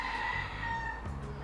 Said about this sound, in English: I'm in the Caribbean and these fowls outside, the chickens are just